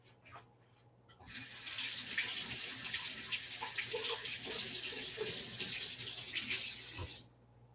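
Water runs steadily from a kitchen tap over a small red beet for about six seconds, a continuous splashing hiss that starts and stops abruptly, with no talking.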